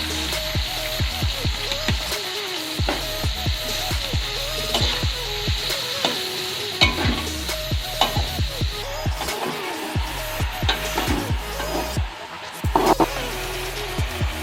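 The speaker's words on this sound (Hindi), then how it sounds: "अब इसी ऑयल के अंदर हम प्याज थोड़े से नरम करेंगे।" Onions softening in hot oil for a home-style bhindi pyaaz, a steady close sizzle throughout with frequent scraping, knocking stirs of a utensil against the pan.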